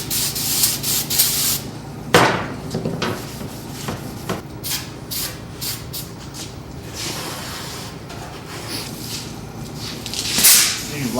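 Brake cleaner sprays and hisses against a rusty quarter panel on a Mustang, with loud bursts and scrubbing rubs coming close together, with no talk over it.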